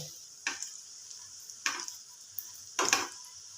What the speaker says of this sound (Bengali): এগুলো একটু সময় নিয়ে ভাজতে হবে বন্ধুরা